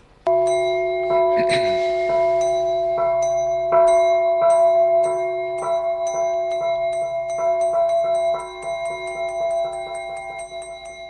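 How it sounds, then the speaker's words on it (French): A small gong is struck repeatedly, first with a few rapid hits and then in a steady run of bright metallic strikes whose shimmering tones ring on and overlap, loud and close with no talking. "j'aimerais qu'on puisse faire sonner notre petit gong"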